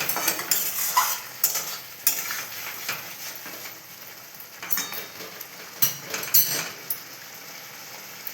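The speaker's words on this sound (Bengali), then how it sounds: "আলুর সঙ্গে মশলাগুলো বেশ ভালো করে ভেজে নেব" Potatoes and spices frying and being stirred in a wok (kadai), with steady scraping and clinking of a metal utensil against the pan and a faint sizzle underneath, close by and moderately loud.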